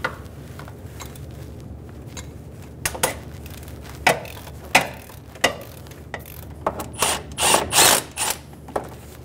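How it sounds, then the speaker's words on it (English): A ratchet with a 12 mm socket backs out the tensioner bolt on a 2003-2008 Honda Pilot, quiet at first, then rhythmic metallic clicking strokes that grow louder toward the end. "Using a 12 millimeter socket, we're going to remove the bolt on the bottom of the tensioner."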